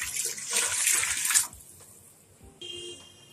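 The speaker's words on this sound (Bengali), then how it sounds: "এখন আমি এখানে পানি দিয়ে দিচ্ছি।" Water splashes loudly into a cooking pot still coated with spices from cooking mutton, a broad rushing pour lasting about a second and a half before it stops and quieter kitchen sounds follow.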